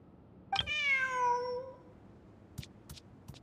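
A single clear cat meow from the video game Genshin Impact, drawn out and rising then falling, followed by a few soft clicks in otherwise quiet surroundings.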